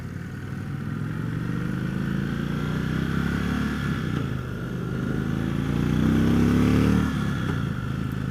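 2015 Indian Chief Dark Horse motorcycle engine while riding: a steady, low, rumbling drone that rises in pitch through the gears and swells louder near the end, with wind noise.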